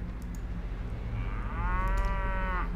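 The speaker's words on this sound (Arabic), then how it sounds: "يبغالي انقل له بقر من هنا. اوح 95 بقرة يا ساتر" Cattle in the Mount & Blade Warband video game let out a long, low moo over a steady rumble of herd and field ambience, loud and fairly close, with no voices.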